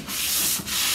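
Sanding sponge rubbed steadily over chalk-painted furniture, a close, continuous abrasive scratching with a brief dip near the middle before the strokes resume, no voices.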